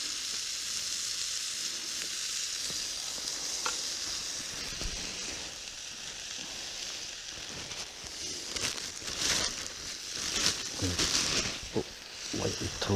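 Bacon frying beside a campfire outdoors, a soft continuous sizzle heard at moderate distance, growing busier with crackles and spits toward the end, no speech over it.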